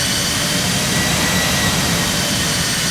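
A Delta Boeing 767-300's jet engines roar loud and continuous during the takeoff roll at Esenboga Airport, a steady broadband rush with no talk over it.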